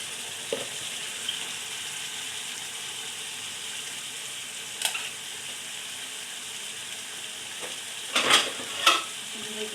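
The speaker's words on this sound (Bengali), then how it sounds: "শুধু তেলের উপরে রান্না করবো তো আলুটা" Potatoes frying in oil, a steady soft sizzle with a few faint stirring knocks and a brief cluster of louder clatter near the end, close and with no one talking.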